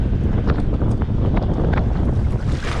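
Steady, loud wind buffeting the microphone on open water aboard an anchored Stabicraft boat in high winds, a continuous low roar with faint splashing of waves against the hull.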